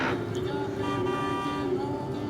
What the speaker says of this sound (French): Accélère, ça klaxonne derrière.